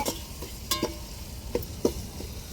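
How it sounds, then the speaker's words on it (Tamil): An aunt cooks biryani at home, a soft frying sizzle running under several sharp scrapes and clanks of a spoon stirring the pot, close and fairly quiet. "எங்கள் அத்தை பிரியாணி சமைக்க சொன்னேன் எங்கள் அத்தை சமைச்சிக்கிட்டு இருக்காங்க"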